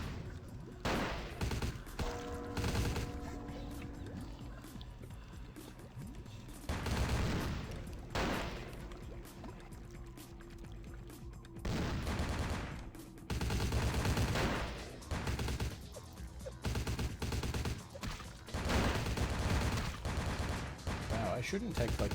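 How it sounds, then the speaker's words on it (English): Gunfire in the game Vampire: The Masquerade - Bloodlines, bursts of rapid shots and heavy bangs coming in clustered volleys with brief lulls, loud and close, with a person talking at points. "I shouldn't take, like, direct gunfire."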